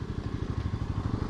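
A motorcycle engine idles close by in a steady low, pulsing chugging throughout, with no voices over it.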